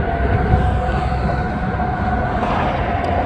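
A Norfolk Southern freight train hauled by EMD locomotives rolls past with a long string of tank cars, a steady, heavy rumble of wheels and cars that holds constant, with no voices.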